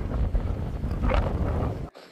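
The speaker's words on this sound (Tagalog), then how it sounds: "nililipad nga kami ng hangin sa sobrang lakas" Strong gusting wind at Woljeongri beach on Jeju Island buffets the microphone with a loud, rumbling roar for nearly two seconds before cutting off abruptly.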